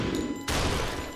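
A single sharp gunshot from a handgun in the game Superhot, a sudden loud broadband burst that cuts in mid-clip and rings on briefly over low background hum, with no talking.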